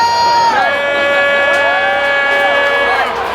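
Baseball stadium crowd reacting as pitcher Paul Skenes is pulled from the game in Pittsburgh, a loud sustained roar of cheers with boos mixed in, whistles and whoops rising over a dense wash of voices.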